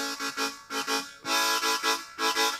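Harmonica chords broken into a quick rhythmic pulse of short repeated bursts made with the tongue, close and clear, with no talking.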